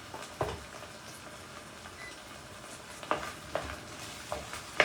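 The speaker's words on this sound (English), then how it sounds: "Give it a gentle stir." A spoon stirs Tex-Mex frijoles in a pot. The scraping and stirring runs under a soft simmering sizzle, with a few sharper clinks near the end, close and unaccompanied by talk.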